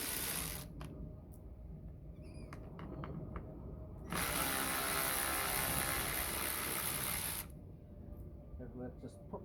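A ratchet with a 7mm socket works on bumper parts of a sixth-generation Chevrolet Camaro, giving short clicking runs and then a louder, steady rattling burst of several seconds, heard close up under a low background hum.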